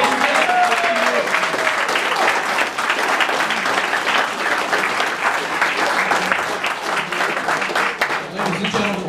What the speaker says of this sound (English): give them a rousing round of applause to welcome them home.